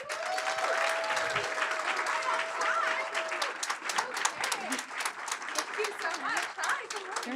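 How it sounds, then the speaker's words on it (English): Audience applause at a data conference opening session in New York City: a crowd clapping steadily with scattered cheers, and a voice speaking over the clapping. "Can I give a round of applause for New York State Senator Kristen Gonzalez?"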